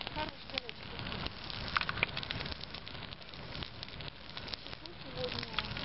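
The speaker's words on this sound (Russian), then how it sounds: "Хороший горячий костер." A hot outdoor campfire crackles and pops steadily and close by, with dense snaps over a constant rushing bed of flame and faint background voices.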